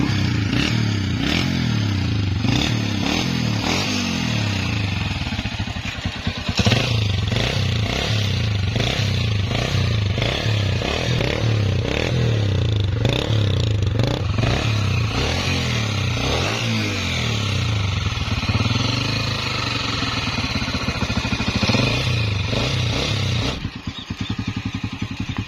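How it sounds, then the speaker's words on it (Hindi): A 2009 Honda Deluxe motorcycle engine runs steadily and loudly close by, with a pulsing low-frequency throb, a clattering mechanical edge and no voices, for about 25 seconds. "और साथ में आपको इंजन का साउंड भी चेक करवा देते हैं।"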